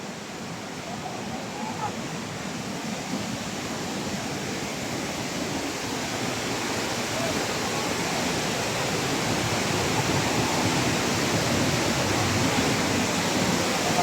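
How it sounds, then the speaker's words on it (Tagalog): River at Wawa Dam rushes in a steady, loud, broadband roar that builds slightly over time, with no breaks and no voices. "Ang ingay ng ilog."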